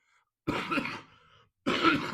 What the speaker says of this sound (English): I've got a bit of a cough going on at the moment